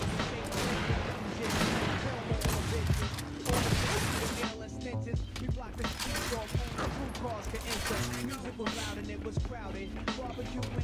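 Rapid gunfire in a shooter game's team deathmatch, dense bursts and crackling shots packed close together, loud and continuous with scattered voices mixed underneath.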